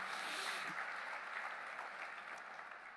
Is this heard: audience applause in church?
yes